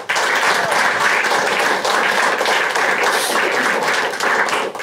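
Applause and clapping from a comedy club audience at a stand-up crowd work show, steady and dense throughout, filling the room close by with no pause.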